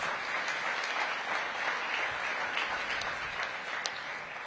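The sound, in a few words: audience round of applause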